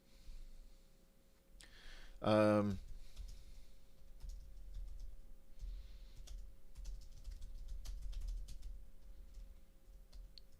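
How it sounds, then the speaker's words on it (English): A short, fast burst of keystrokes on a computer keyboard, close and crisp, rising out of a low background hum and then falling quiet again. "typing without my glasses on is make me a bad typer"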